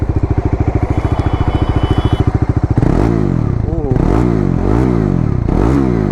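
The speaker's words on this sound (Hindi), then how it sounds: "और एक बार एग्जॉस्ट नोट सुनाते हैं आपको।" A Bajaj Dominar 400 motorcycle idles with a deep rapid thumping exhaust pulse, then is revved up repeatedly in loud rising and falling blips, heard close and alone.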